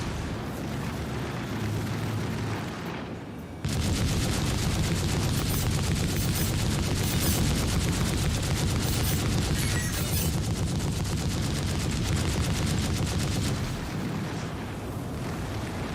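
Rapid tracer gunfire in a spaceship combat video game, a dense, loud, continuous stream of cannon shots over engine rumble, beginning abruptly after a quieter hum and running without pause.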